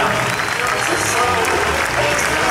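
Sustained applause from a gathered crowd fills the space for Elena at a village celebration in Ateca, dense and steady throughout with a murmur of voices beneath.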